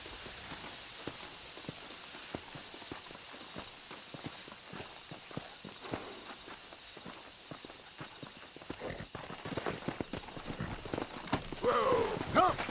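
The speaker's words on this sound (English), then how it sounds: "Come on, horses are over here." Horses walk in Red Dead Redemption, hooves clip-clopping in a quiet, irregular stream of soft thuds before picking up and growing louder near the end, with a brief whinny at the close.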